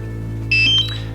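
One short, sharp electronic warning beep from a DJI Mavic Air drone remote controller rings out over a constant low hum, then stops.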